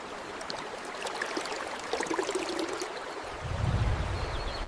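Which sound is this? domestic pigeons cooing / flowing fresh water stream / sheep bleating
flowing fresh water stream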